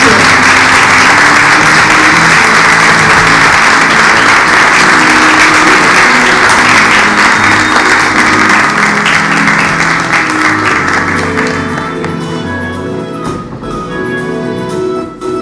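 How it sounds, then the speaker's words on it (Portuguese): Loud, sustained audience applause at the 2º EGEF event, a dense crowd clapping steadily before tapering slightly toward the end, with faint voices underneath. "Palmas, gente!"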